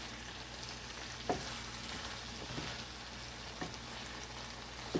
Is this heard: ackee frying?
yes